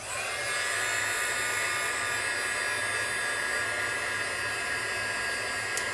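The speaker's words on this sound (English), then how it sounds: "I think I'm gonna blow on it with my heat gun." A heat gun blows on a vellum butterfly embellishment to dry it, producing a constant, fairly quiet airy whir with a faint motor hum, unbroken for six seconds, with no one speaking.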